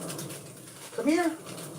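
A dog waiting for cheese in a kitchen gives one short, high whine in the middle, amid quiet room noise.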